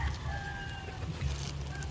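White leghorn chickens, some four to five years old, clucking on a farm, with faint calls and a few tonal crowing notes carried over a low rumbling background.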